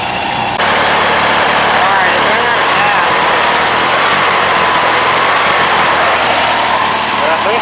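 A small tractor fitted with a swapped-in Briggs opposed-twin engine runs steadily and loudly close by, a constant buzzing drone throughout, with voices talking over it.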